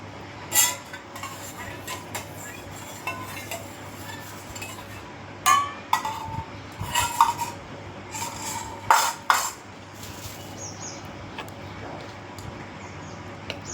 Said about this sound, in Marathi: आता या चमच्यानं मस्त असं हे गोल गोल गोल गोल फिरवायचं